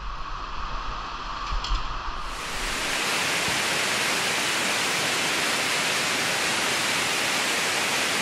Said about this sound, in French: Ah ouais, vers la cascade